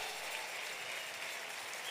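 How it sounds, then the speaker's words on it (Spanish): A church congregation claps steadily, a dense wash of applause throughout with no voices on top. "denle un aplauso al Señor"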